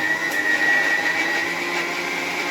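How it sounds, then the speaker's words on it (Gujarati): An electric mixer grinder whirs loudly and steadily while grinding chilli, onion and garlic for a chutney, a constant motor drone with a high whine and no talking. "તો જુઓ મિક્સરમાં દળવાનું શરૂ કરી દીધું છે"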